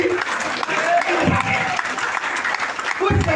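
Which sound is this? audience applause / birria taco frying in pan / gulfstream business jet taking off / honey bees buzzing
audience applause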